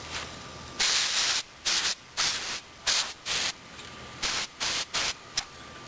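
Canned air duster sprays in short bursts while cleaning a fan, about a dozen sharp hissing blasts of varying length separated by brief quiet gaps, close and fairly loud.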